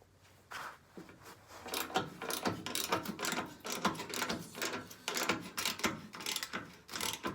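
Rapid ratchet clicking from a wrench loosening 14 mm bolts on the skid shoes of an Ariens snowblower, close and moderately loud, in uneven bursts of back-and-forth strokes with no talking.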